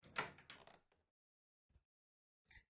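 A door opening in the game Seduce Me the Otome, a short clattering creak and knock of the latch up front, followed by two faint isolated soft thuds in otherwise near silence.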